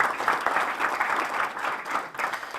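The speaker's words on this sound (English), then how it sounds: "So let's give that a round of applause." Outdoor audience at a park groundbreaking ceremony claps steadily, a dense, continuous round of applause from a sizable crowd at close range.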